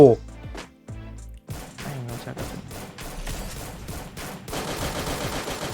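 Rapid bursts of automatic gunfire in the battle royale game Free Fire, starting with a few separate shots and building into dense, continuous volleys, with voices talking over the shooting.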